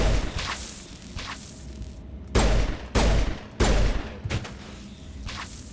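Gunfire in Mass Effect 1 Legendary Edition, sharp loud shots in quick irregular bursts, including three heavy close cracks in a row mid-way, with no talking.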